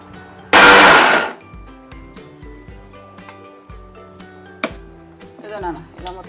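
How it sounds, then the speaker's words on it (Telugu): A mixer grinder whirs in a short, loud burst as it grinds semolina with cardamom, then stops, followed by light clinks and taps of the jar in a quiet kitchen. "ఇది మొత్తము యాలకులు వేసి మిక్సీ చేసుకొస్తాను"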